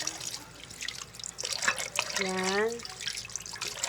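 Pancit bihon rice noodles are rinsed under a running kitchen tap, water splashing and dripping close by, with a brief spoken word and a short tonal squeak partway through.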